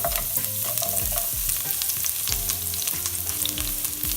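Ginger and garlic frying in hot oil in a pan give a bright, crackling sizzle, with stirring scrapes and rattles over a low, steady hum.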